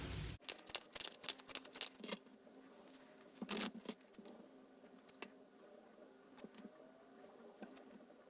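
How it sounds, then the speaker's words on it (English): Quiet, close-up riffling and snapping of tarot cards being shuffled, in uneven bursts with soft pauses between. "So I'm going to shuffle some more cards"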